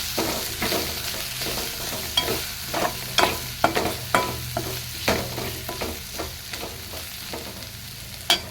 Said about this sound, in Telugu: ఇది ఇలా ఫ్రై అవుతూ ఉంది.